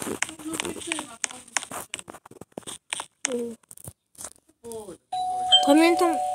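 A doorbell rings near the end, a sustained bright electronic tone following a stretch of clicks and rustling, with a person speaking over the sounds.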